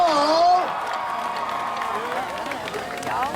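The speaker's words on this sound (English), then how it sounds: "A nice round of applause for David and his team" Crowd at a pep rally with a drum and bugle corps and a marching band breaks into applause and cheering, a steady wash of clapping and whoops under a voice at the start.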